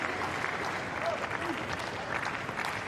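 Tennis crowd applauding a volley at a United Cup match in Brisbane, a steady wash of clapping sustained evenly from start to finish at moderate distance, with faint voices mixed in.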